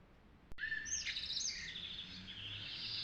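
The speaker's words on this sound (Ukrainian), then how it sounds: "Послухайте, як сперечаються птахи." Birds chirp and call over one another after a sharp click, bright twittering whistles rising and falling, fairly close and continuous.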